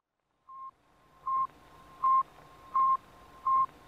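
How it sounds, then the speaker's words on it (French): Radio beeps transmitted by the Sputnik 1 satellite, launched in October 1957: five short, identical high-pitched tones spaced evenly about three quarters of a second apart, thin and clear over a faint hiss. "Ce que vous entendez là, c'est le bip émis par Sputnik 1"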